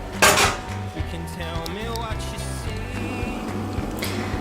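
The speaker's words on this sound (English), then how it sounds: "And also you need to mix all the stuff here into a big bowl." Yogurt, salt, warm water and flour being mixed into dough in a big bowl, with clinking of a utensil against the bowl, an early knock and steady scraping and tapping throughout; faint voices may sit underneath.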